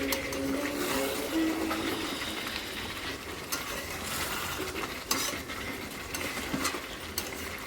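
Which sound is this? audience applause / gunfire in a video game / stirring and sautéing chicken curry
stirring and sautéing chicken curry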